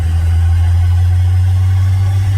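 A diesel car engine sputters at a low, rough idle, droning steadily, rumbling and slightly uneven as if struggling, with no voices.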